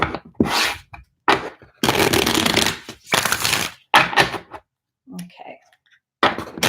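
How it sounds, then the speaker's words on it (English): A deck of cards is shuffled in a run of about six sharp, papery riffling bursts separated by short pauses, close and fairly loud, with a brief quiet voice near the end. "Okay, so I'm going to shuffle the cards"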